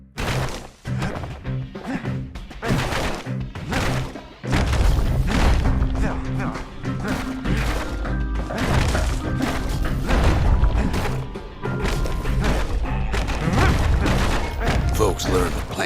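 Junk being smashed to bits in a yard in the video game Bastion: rapid, loud thuds, cracks and crashes pile up continuously under game music, with a narrator's voice talking over them.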